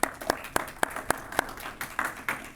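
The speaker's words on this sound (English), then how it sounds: "Come on, give them a round of applause." A handful of people at a drainage community meeting clap for Team Savannah in a sparse, slow rhythm of distinct individual claps, modest in volume and roomy rather than a full crowd roar.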